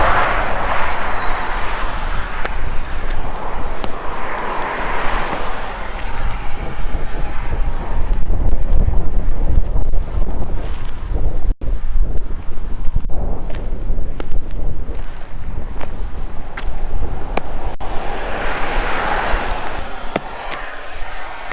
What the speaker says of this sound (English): If this wind wasn't here, this would be like the perfect temperature.